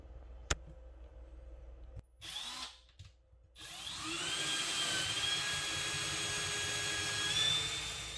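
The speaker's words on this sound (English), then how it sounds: "so I'll drill from the other side" An electric drill bores through material while installing an LED light, starting with a click and short bursts before settling into a loud, steady whine that holds close and continuous to the end.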